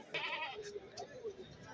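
Goat kids bleating at a rain-soaked goat market, short wavering cries rising over a steady murmur of crowd noise and nearby talk.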